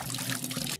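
Water pours steadily into a bucket in a continuous, close splashing gush that stops abruptly at the end, with no talk.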